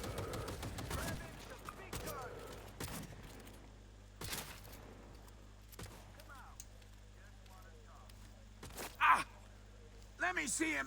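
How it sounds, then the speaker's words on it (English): Heavy gunfire in Cyberpunk 2077 comes as scattered loud bursts of shots with quieter gaps between them, set over a low background hum, and a voice speaks in places. "Heavy artillery!"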